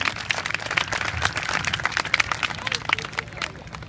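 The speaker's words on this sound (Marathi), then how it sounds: "एकदा जोरात टाळी देऊया" A crowd claps and cheers for a paramotor demonstration team at an outdoor event in Latur, with dense, steady applause mixed with crowd babble and talk throughout.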